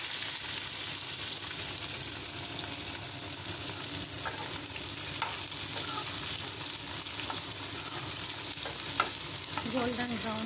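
Onion frying in a pan with curry leaves and fennel seeds, a steady broadband sizzle throughout with occasional stirring scrapes and clinks, close and continuous with no talking.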